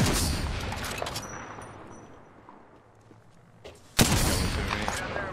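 Video game gunfire, a sustained burst of shots that fades to near quiet before a sudden loud volley erupts again and keeps going to the end.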